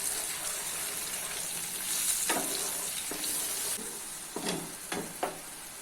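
Curry leaves and masala paste sizzling in about three spoons of hot oil for a fish curry, a steady close frying hiss with a few sharper spatters and stirring scrapes toward the end.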